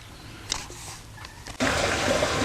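Water gushes into the tank of a farm crop sprayer being filled for spraying rye, a broad steady rush that starts suddenly after a few quiet knocks and holds loud and close.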